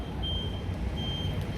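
Buses at a Munich bus terminal give off two long, steady reversing beeps over a constant low rumble of idling engines. There is no talk.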